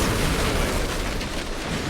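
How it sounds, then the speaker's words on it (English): A fire ship blowing up in Assassin's Creed IV Black Flag, a dense, roaring blast that fills the air for a couple of seconds, with no talking. "The fire ship's about to blow"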